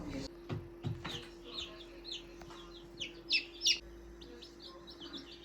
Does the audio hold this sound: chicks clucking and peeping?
yes